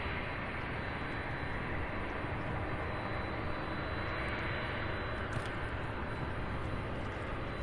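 A Boeing 767 jet taxis at Louisville airport, its engines a broad, steady roar that holds level throughout with a faint high whine on top, heard from a distance outdoors.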